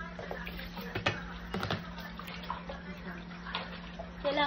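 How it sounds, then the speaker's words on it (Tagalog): Pechay (bok choy) is rinsed under running tap water, a steady close splashing flow with occasional sloshes and handling knocks. "Kailangan hugasan mabuti."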